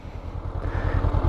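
A motorcycle idles in neutral, putting out a steady, rhythmic low thumping that sits close and fairly loud, with no voices over it.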